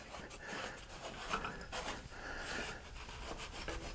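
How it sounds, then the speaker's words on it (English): A rag wipes gasket residue off the valve cover of a 2008 Pontiac Grand Prix GXP, making close, continuous rubbing and scuffing strokes at a moderate level. "Wipe it down. Get as much as we can off with the rag."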